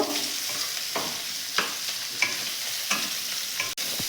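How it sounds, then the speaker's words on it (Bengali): Salted minced meat frying in white oil for mixed fried rice, a steady close sizzle broken every second or so by the scrape and tap of a stirring spatula. "এবার এই মাংসের কিমাগুলোতে আমি নুন মাখিয়ে রেখে দিয়েছি সেগুলো ভেজে নেব"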